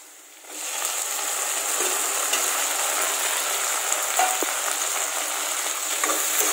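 Tomatoes added to browned onions in a pan for a suran (elephant foot yam) curry fry with a steady, loud sizzle and hiss that starts abruptly and continues unbroken, with faint stirring scrapes.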